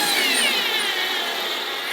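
A power drill drives a screw into an old wooden table, a continuous close whirring whine that holds steady for about two seconds with a slight drop in pitch near the end.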